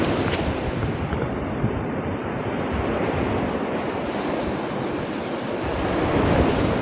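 Strong ocean surf roars steadily and loudly on a beach, with a continuous wash of breaking waves and wind and no talking.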